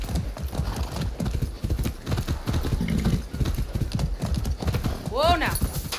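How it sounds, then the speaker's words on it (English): A horse clip-clops through a Far Cry 6 game scene. The hooves keep a steady rhythmic beat, a whinny rises near the end, and a voice talks over the hoofbeats. "A good horse."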